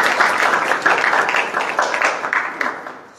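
A church congregation claps to welcome a service, a dense, steady burst of applause from many hands that lasts about three seconds and fades slightly at the end.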